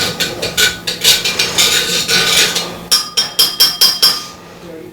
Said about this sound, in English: Stirring that clockwise.